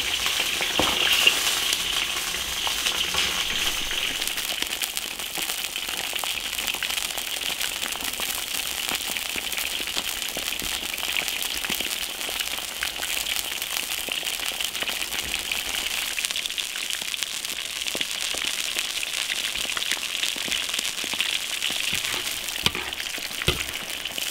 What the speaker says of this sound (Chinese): 一锅没有炸完，要炸2锅，把鱼炸到酥脆。